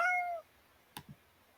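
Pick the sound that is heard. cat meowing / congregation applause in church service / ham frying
cat meowing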